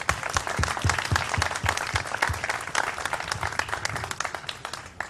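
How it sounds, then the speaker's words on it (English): A crowd at a tribute event breaks into sustained applause, dense overlapping hand claps continuing evenly and fairly close throughout. "we should all give a huge round of applause to George"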